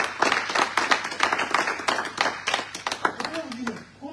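A church congregation at a Sunday service applauds in bursts of clapping, loud and close, with voices mixed in underneath.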